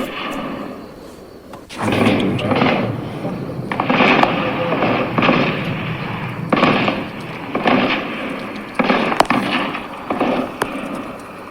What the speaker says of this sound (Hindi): तो ये जो गोलियों की आवाज आप सुन रहे हैं, यही वो गोलीबारी है, यही वो इंटेंस फायरिंग है।